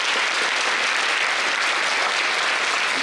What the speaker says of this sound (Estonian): nii et aplaus meie žüriile.